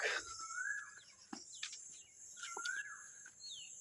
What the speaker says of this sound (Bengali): সন্ধ্যা হয়েছে না, এখন পাখিদের ডাক,